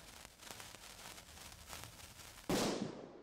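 Firecrackers in a birthday-cake cooking video game pop in faint, scattered crackles, then one louder bang near the end that decays quickly.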